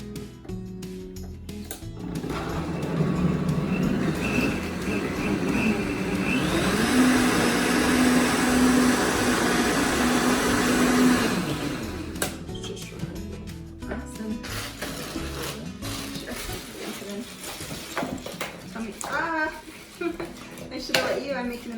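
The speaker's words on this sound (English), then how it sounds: "We'll blend that, and then we'll add our icing, but we want to make sure that that rice is blended in good." A kitchen blender whirs through leftover rice and cinnamon, a loud grinding roar lasting about ten seconds, followed by clinking dishes, utensils and soft voices nearby.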